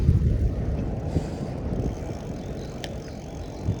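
Strong wind roars across the microphone during a ride through Stanley Park, a steady low rumble with gusty buffeting and no voices.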